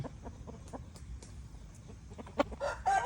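Young roosters cluck in short, scattered bursts with a brief squawk near the end, fairly quiet, as if from a nearby coop.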